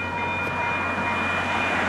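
VIA Rail passenger train 84 approaches with a steady, continuous rumble of wheels and rolling stock that grows slightly louder, and no voices are heard.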